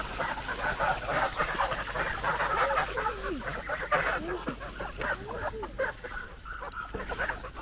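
Chickens and geese cluck and honk continuously at a feeding spot in a rural yard, a dense, busy chorus of fowl calls with water trickling nearby and occasional faint voices.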